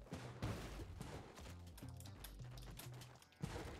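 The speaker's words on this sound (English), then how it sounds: "I didn't have to use a bomb there" A bomb blows up in the video game Spelunky 2: sharp, booming bursts hit near the start and again near the end, over busy game music and sound effects.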